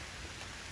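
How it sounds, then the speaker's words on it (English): Rain falls during a mountain hike, a steady, faint hiss of drops with no other sounds and no voices. "Okay, it's raining."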